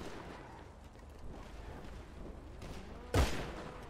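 A single loud, sharp gunshot rings out near the end during a video game roleplay, standing out from a busy, murmuring game background.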